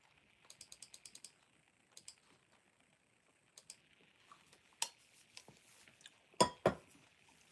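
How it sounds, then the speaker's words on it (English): Quiet, irregular computer keyboard typing: short bursts of quick keystrokes, pauses, then a few sharper, louder clacks near the end, close to the microphone with no talking. "He's typing."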